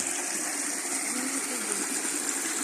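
Steady rushing water flows continuously on a farm, a full broadband gush like a stream or spout pouring nearby, with no voices.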